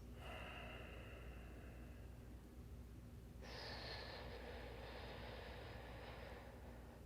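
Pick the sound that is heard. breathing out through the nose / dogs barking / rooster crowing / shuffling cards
breathing out through the nose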